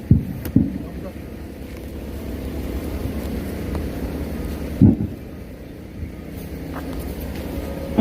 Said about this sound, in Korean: 또 비가 오는데